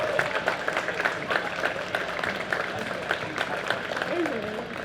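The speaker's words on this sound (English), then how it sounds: "we need to give all of these young drivers a big round of applause." An audience at an indoor go-kart raceway claps steadily for young kart drivers during race-day introductions, a continuous patter of applause filling the space.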